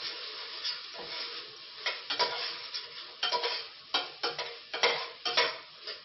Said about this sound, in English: stir onions, soften them up.